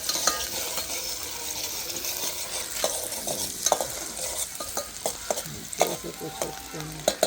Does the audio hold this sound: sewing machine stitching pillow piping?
no